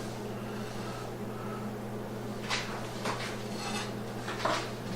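Knife slicing through cornbread in a cast iron skillet, a few faint scraping, clinking strokes near the end over a steady low kitchen hum.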